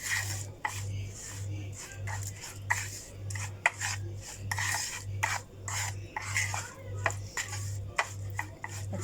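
A surmai fish marinade with salt being mixed by hand in a bowl, heard as close, rhythmic rubbing and squelching strokes repeating about once a second over a steady low hum.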